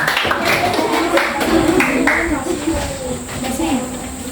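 A classroom group claps together in a steady burst of applause, fairly loud and continuous, with children's voices mixed in underneath.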